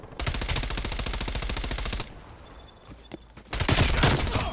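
MP5 submachine gun fire in Call of Duty Cold War, a long rapid automatic burst of sharp, evenly spaced shots, then a short lull with faint clicks before another loud, dense volley.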